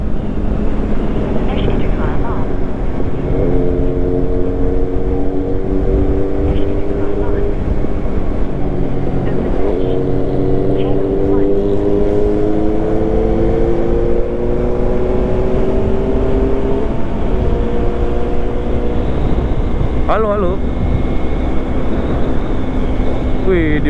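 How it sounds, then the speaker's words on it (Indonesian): Kawasaki Z800 motorcycle engine heard from a rider following behind while touring in South Kalimantan, a steady loud drone with rising and falling gear-change tones under constant wind, with voices chatting over it. "Di belakang Z800 tuh suaranya lebih bulat ya daripada ZX ya."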